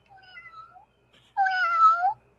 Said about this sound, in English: hear that? It's a nice, gentle kitty cat